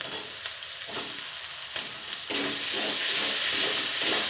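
Boiled potatoes added to a cabbage curry and fried, with a close, steady sizzle and spatula stirring strokes, the frying hiss swelling louder partway through.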